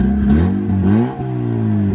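A turbocharged Honda Civic engine held at high revs, loud and close, its steady harmonic drone wavering and dipping slightly as it bounces against the rev limiter, with no voices over it.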